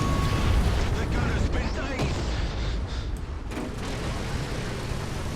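Heavy gunfire from a tier 3 German tank in the War Thunder video game, a dense, loud, continuous battle roar of booming blasts with no clear single cannon shot standing out.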